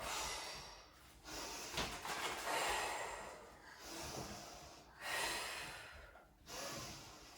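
Children take slow, deep breaths during a kids' yoga class, with several long inhales and exhales rising and falling in a loose rhythm, close and fairly soft.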